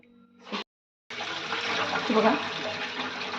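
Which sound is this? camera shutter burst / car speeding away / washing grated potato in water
washing grated potato in water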